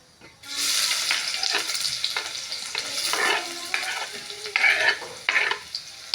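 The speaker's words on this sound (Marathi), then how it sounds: "आता आपण कांदा टाकून घेऊ" A medium onion sizzles and crackles in hot oil in a pot while being stirred for a chicken rassa, the frying loud and steady with scraping stirs.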